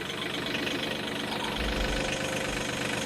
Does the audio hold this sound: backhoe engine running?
yes